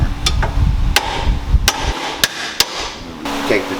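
A hammer taps a castle nut threaded flush on a tie rod of a 1999–2004 New Edge Mustang, giving a handful of sharp, close metallic knocks spaced irregularly over shop noise.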